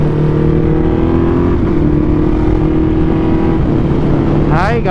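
The engine of a new Ducati motorcycle rumbles loudly and close by, a steady, throbbing idle with a slight rise in revs toward the end.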